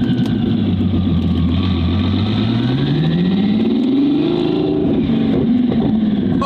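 A twin-turbo Ferrari F12 engine runs loud and close, its pitch climbing smoothly from a low drone into a rising rev, then wavering and dipping with throttle changes near the end.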